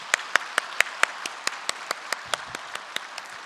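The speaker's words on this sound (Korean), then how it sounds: "우리 믿음의 선조님들께 우리 감사의 박수를 먼저 보내드리겠습니다" A church congregation marking its 126th anniversary claps, heard as a slow, evenly spaced series of single sharp claps, about four per second, fairly faint over a quiet room.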